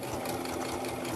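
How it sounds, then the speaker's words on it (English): A heavy-duty sewing machine stitches through a rice-filled heating pad, its steady rapid mechanical whirr running close and continuous without pause. "But I found an actual heavy-duty sewing machine"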